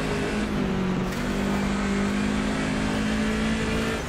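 Steady loud engine drone of a BMW 2002 Turbo race car in Automobilista 2, holding constant high revs with a humming tonal whine throughout, close and uninterrupted with no talking.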